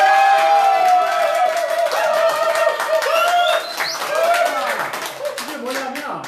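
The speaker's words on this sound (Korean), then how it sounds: "이런 게 맞으면 여러분 박수 한번 쳐주십시오." An audience responds at a local interview event with a short burst of clapping, some laughter and murmuring, while people talk over it.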